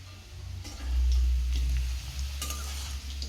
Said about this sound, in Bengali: এই যে মা এখানে রান্না করছে।